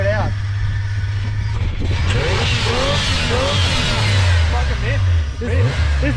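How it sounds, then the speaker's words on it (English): A stock car engine being revved to clear a pinging condition, loud and continuous with rising and falling pitch sweeps close by, while people talk over it. "Give it a rev, clear it out."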